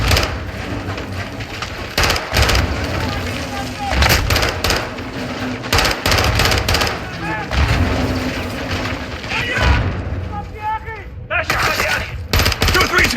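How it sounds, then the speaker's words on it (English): Battle in the Call of Duty Modern Warfare 2 campaign, with dense, loud bursts of rifle and machine-gun fire and explosive booms from launched grenades continuing throughout, while voices shout over the combat. "Incoming! Take cover! They're launching grenades!"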